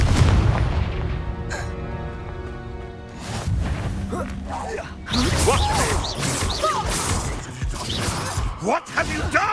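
The Confringo blasting spell in the Hogwarts Legacy video game goes off as a burst of booming explosions and crashing impacts, with whooshes layered under chaotic battle noise and voices.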